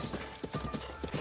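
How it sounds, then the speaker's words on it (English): Rhythmic clip-clop of horse hooves galloping in a Nintendo video game, a steady fast beat of soft thuds at moderate level under game sound, with brief faint speech. "You can actually hit the enemies with the horse"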